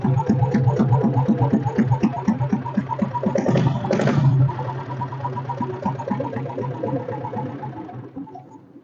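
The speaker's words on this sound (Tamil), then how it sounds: "ஸோ பீட் சவுண்ட் கேளுங்க." A restored vintage Royal Enfield Bullet motorcycle idles with its steady, evenly spaced thumping beat. The engine is loud and close, with a brief rougher surge midway before it settles and fades out at the end.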